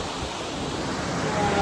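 Montmorency Falls, a large waterfall in Canada, gives a steady broadband roar on a sunny day, continuous and even, with wind-like hiss and no distinct individual splashes.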